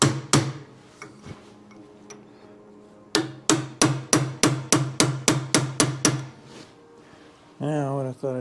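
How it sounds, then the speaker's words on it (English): A chisel hammered against the front wheel bearing of a 1914 Chevrolet gives sharp metallic strikes. Two blows come first, then a steady run of about a dozen rapid, evenly spaced hits, followed by a brief voiced sound at the end. "chisel seems to work real good."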